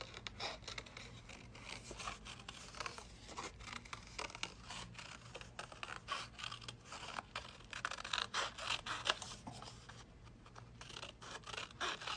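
Scissors snip through scrap paper to cut out small folded butterfly shapes for scrapbooking: quiet, close, steady crisp cutting and rustling throughout.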